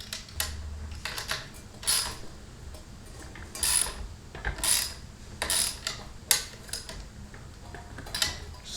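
A ratchet wrench tightens a nut on an old abandoned rototiller, making bursts of fast metallic clicking strokes that repeat in uneven spurts, close and fairly loud, with no talking.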